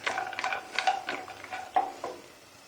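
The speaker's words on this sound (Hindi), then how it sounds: "मैंने इन तमाम ड्राई फ्रूट्स को भून लिया है" Mixed dry fruits roasting in a pan for makhandi halwa, with a spoon stirring and scraping in a steady series of close, fairly loud strokes and light clinks, and no voices.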